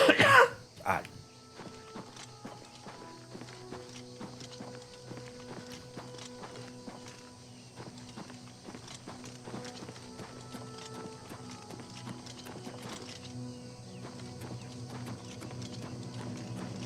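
Horse hooves clip-clop steadily in The Elder Scrolls IV: Oblivion, a rhythmic run of muffled thuds that goes on under a dense game soundtrack of music and ambience. A cough or throat-clearing is heard near the start.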